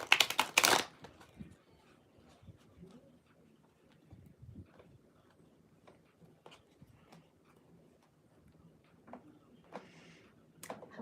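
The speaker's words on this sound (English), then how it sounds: "I'm going to shuffle some more." Tarot cards being shuffled by hand: a burst of riffling at the start, then soft intermittent card slides and taps, close and fairly quiet.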